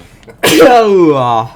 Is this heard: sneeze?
yes